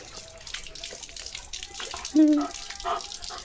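Water gushes and splashes steadily from a broken pipe, with a voice and other voices heard faintly in the background.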